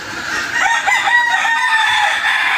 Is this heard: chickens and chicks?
yes